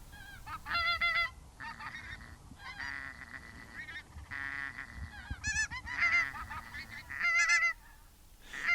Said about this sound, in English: interspersed with high-altitude geese flying teasingly overhead,